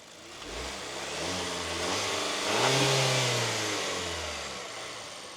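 A 2026 Buick Enclave engine, a non-hybrid powertrain, is revved: the note climbs steadily to a peak near the middle, then falls back, loud and close, with no talking over it.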